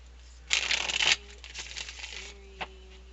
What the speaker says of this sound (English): Shuffle, shuffle, shuffle. Shuffle, shuffle.